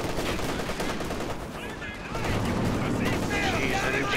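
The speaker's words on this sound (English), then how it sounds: "that MG42 with the armor piercing rounds is shredding my building" MG42 machine gun fire in the video game Company of Heroes 2, rapid bursts mixed with other battle noise at moderate level, with voices talking over the fighting.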